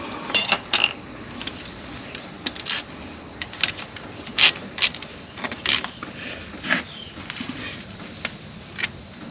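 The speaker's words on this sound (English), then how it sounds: "You want to screw it in by hand till you get it about where you want," A metal fitting screwed in by hand and tightened on a truck, with a string of sharp metallic clinks and scrapes in irregular bursts, close by.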